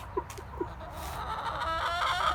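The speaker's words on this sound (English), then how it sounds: "the chickens are eating it" Backyard chickens clucking while pecking at freshly planted grass seed, a few short clucks up close followed by softer background chatter and rustling.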